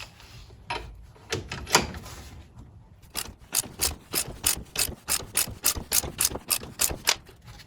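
A ratchet clicks through repeated quick strokes while leaf spring bushings are removed from a classic Chevy, starting with a few scattered pulls and then settling into a steady, evenly paced run of sharp clicks heard up close.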